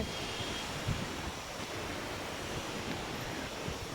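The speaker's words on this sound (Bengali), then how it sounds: "দেখেছ কি হাওয়া দিচ্ছে" Strong stormy wind blows in a constant, dense roar that buffets the microphone, heavy and unbroken throughout with no voices.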